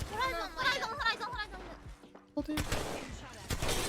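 Gunshots from the video game Apex Legends pop in quick bursts beneath excited talking, with a brief lull before more shots and voices return.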